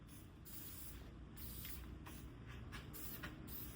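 Bursts of hissing spray from an aerosol paint can, several short and long pulses in an irregular rhythm, close and fairly quiet.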